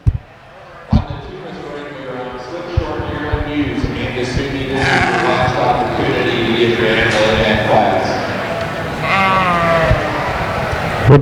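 Hampshire yearling ewes bleating in a livestock show ring, several overlapping close bleats over a busy arena with knocks and thumps, while someone talks over a loudspeaker.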